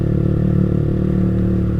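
A motorcycle with a JB159 trioval aftermarket exhaust, apparently a Yamaha R25, rides through a residential complex with a close, steady, deep and mellow exhaust drone that stays even throughout.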